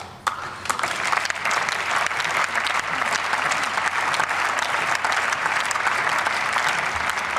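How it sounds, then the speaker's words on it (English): An audience in a hall applauds, a dense, sustained burst of clapping that starts sharply and holds steady at close range for several seconds, with no speech over it. "You only got claps from half the room."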